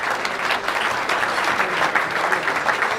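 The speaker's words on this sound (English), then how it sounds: "can you all applaud yourself and raise a glass to your neighbors" Steady, dense applause from a charity ball audience fills the room, a continuous wash of clapping from many hands with no break or swell, heard close and loud.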